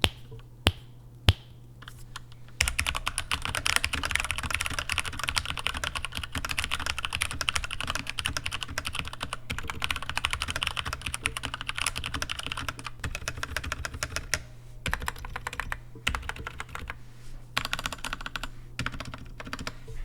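Typing on a mechanical keyboard fitted with tactile brown switches, a steady stream of close, crisp key clacks with a few isolated taps at the start and a low constant hum underneath, no voices.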